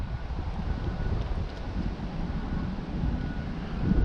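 Wind buffeting during a DJI Mavic Mini drone flight, a steady low roar of microphone wind noise lasting the whole stretch with no voices.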